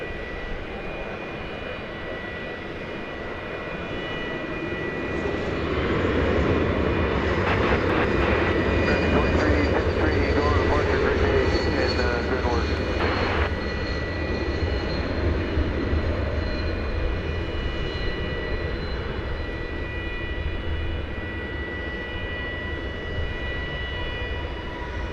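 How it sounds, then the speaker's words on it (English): An Airbus A220 airliner moves at DFW Airport, its jet engines swelling from a distant hum into a sustained roar with high whining tones, then holding steady as it passes, while someone talks over it. "It's an Airbus A220."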